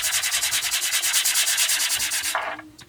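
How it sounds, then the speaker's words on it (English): Hand sanding back an inked stencil piece, quick rhythmic back-and-forth scratchy strokes, close and loud, slowing and stopping near the end. "I'll just give this one a little sand back."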